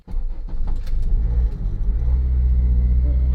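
Honda Civic Si engine idling roughly after a new K Tuned clutch master cylinder install, a loud, steady low rumble with an uneven, lumpy idle close to the microphone.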